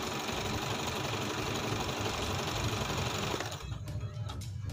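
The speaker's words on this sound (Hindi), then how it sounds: "इसकी जो सिलाई है वो स्टार्ट हो जाएगी।" Janome sensor craft sewing machine stitching: a close, steady, fast mechanical whirr with rapid needle ticking, then the machine slows near the end into a few separate clicks.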